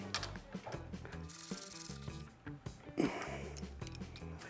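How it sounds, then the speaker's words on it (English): A ratchet tightens bolts on a Harley Davidson front fork during a fork rebuild, giving rapid clicking pawl bursts with metallic rubbing and handling noises, close and fairly quiet. "then you could tighten the rest with a ratchet"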